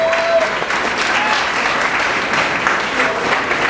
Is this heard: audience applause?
yes